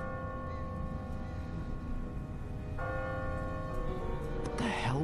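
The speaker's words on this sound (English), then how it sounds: "Bell tolls." A church bell tolls in The Walking Dead video game over a dense, murky ambient bed, with resonant ringing swelling midway and a fresh strike near the end.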